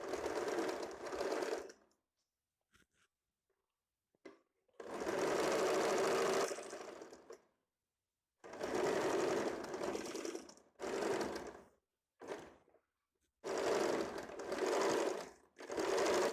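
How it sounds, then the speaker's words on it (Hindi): A sewing machine stitching a folded blouse hook strip, running in five separate bursts of varying length with silent pauses between them, close and clear. "हुक पट्टी पहले मशीन से सिलाई कर लो, बाद में इसको तुरपाई करना है।"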